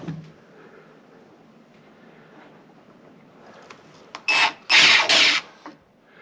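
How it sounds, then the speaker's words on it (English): A power drill with a 1/8 inch bit bites into metal during a bathroom floor job: after a long quiet stretch, two short, loud grinding bursts come close together near the end. "I'm drilling into metal, so we're gonna see how this shakes out"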